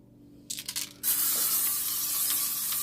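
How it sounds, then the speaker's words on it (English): Cooking spray hisses into the bottom of an Instant Pot, first a few short sputtering bursts, then one long steady spray that runs to the end, close and fairly loud, with no talking. "I'm going to spray the bottom of the Instapot"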